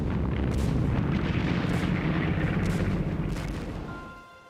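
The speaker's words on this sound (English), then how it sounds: "Tanks led the way, grinding over the rubble and firing point blank into courtyards." Heavy booming blasts of tank guns firing point blank into courtyards amid the rubble of Stalingrad, a dense rumbling barrage of deep explosions that rolls on continuously and then fades away toward the end.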